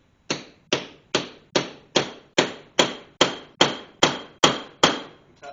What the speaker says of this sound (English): Tap several times, which flares the rivet out.